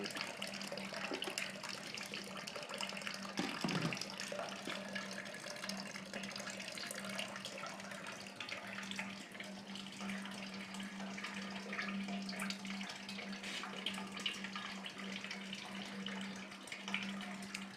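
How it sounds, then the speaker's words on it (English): Steady, continuous stream of hot water poured from a bucket onto a ridge inside a cooler for all-grain home brewing of a cream ale, an even splashing rush close by with a constant low hum underneath. "We just kind of run the front of the bucket here, or the milk jug, whatever, onto it, disperses the water pretty evenly."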